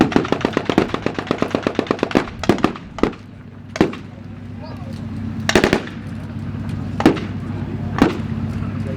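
Machine gun fire at a WWII-style tank battle reenactment, with a rapid burst of shots at the start followed by scattered single loud reports and short bursts over a steady low engine rumble, with voices faintly underneath.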